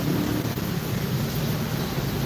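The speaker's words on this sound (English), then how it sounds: "I don't know if you can see the rain behind me." Rain falls steadily during the rainy season in Cebu, Philippines, a dense, even hiss filling the air with no breaks.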